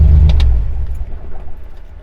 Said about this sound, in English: All right, it's running.